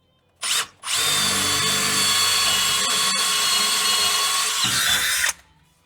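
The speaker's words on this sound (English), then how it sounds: "Got to drill this hole." A power drill starts with a short burst, then runs steadily at high whine for about four seconds, boring through a Dodge Power Wagon's steel frame rail before stopping.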